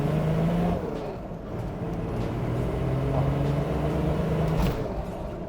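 An old turbocharged car making about 200 horsepower drives along with a steady loud engine drone and road rumble, its pitch rising slowly as it pulls, with no talking.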